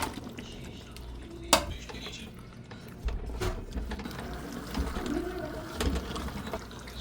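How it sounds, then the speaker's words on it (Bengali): Fried chicken goes into a pot of roast spice masala with yogurt. Sharp metal clanks of a spoon against the pot are heard, followed by stirring and soft wet sizzling close by. "এখন এর মধ্যে যে ভাজা মুরগি মাংস দিয়ে দিই"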